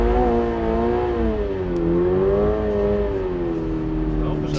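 A Toyota GR86 spins around on its own axis while drifting, its engine note rising and falling in steady harmonic sweeps as it revs, with a voice speaking over the engine.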